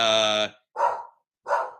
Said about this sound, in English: Oh, dog's barking.